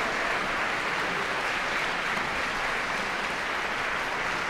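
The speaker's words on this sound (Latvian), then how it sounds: "Ar aplausiem pavadām Rīgas domu skolas mētiņkora Tiara" Audience applause for a school choir from Riga, a dense, even wash of clapping sustained at steady level from start to end, with no voices on top.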